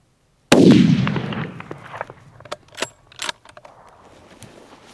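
A single loud rifle shot at a deer during a hunt cracks out suddenly, then its echo decays over the next seconds among faint rustles, with no voices.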